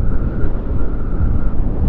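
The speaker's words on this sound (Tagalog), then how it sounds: "Ramdaman nyo yung hampas ng hangin. Yun ang lakas ng hangin." Loud, steady wind buffets a motorcycle-mounted microphone at about 75 speed into a headwind, a dense, rumbling rush with constant low-frequency roar and no speech.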